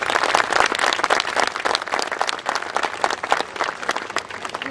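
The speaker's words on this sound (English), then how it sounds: "Everyone give them a round of applause." Audience at a 2012 community college graduation ceremony bursts into sustained, dense applause, many hands clapping steadily and loudly throughout with no break.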